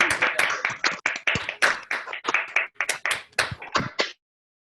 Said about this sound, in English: give a round of applause to the presenters